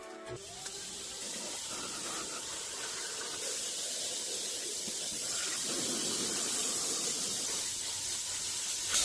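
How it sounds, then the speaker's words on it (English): A Wagner automatic paint sprayer with its detail sprayer hisses steadily as it coats a piece of wooden furniture, a continuous close spray that grows slightly louder. "I'm using the detail sprayer from the Wagner automatic paint sprayer"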